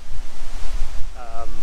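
Water running along a creek on provincial land near the Ottawa River, a steady broadband wash with some wind noise on the microphone, and a brief tonal whine near the end.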